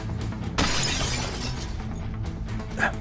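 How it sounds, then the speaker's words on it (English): Tempered glass explodes in the Path to Nowhere game during a prison riot: a loud, sudden shatter near the start rings into a sustained crackling spray of fragments over a constant low rumble, with a brief bright tinkle toward the end. "The tempered glass in front of you suddenly exploded."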